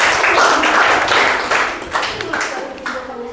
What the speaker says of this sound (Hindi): अनुराधा कुमारी के लिए एक जोरदार ताली होना चाहिए